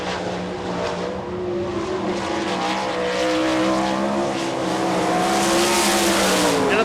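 A World of Outlaws sprint car screams around a dirt oval at Rossburg, Ohio during a timed qualifying lap, its high-revving engine droning loudly and steadily with rising and falling pitch as it passes through the turns.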